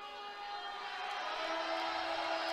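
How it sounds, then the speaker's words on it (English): Women's college volleyball crowd in Rec Hall at Penn State, a steady broad roar of many voices swelling slightly louder over a few seconds, dense and sustained without distinct individual shouts. "As the Rec Hall crowd gets loud."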